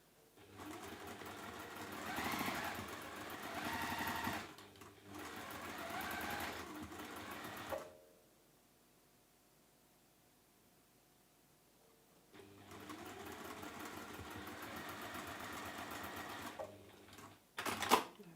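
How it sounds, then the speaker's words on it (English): A sewing machine runs in bursts while stitching quilt fabric pieces together, several loud whirring runs separated by a long quiet pause, then a final short burst. "We've sewn all those together."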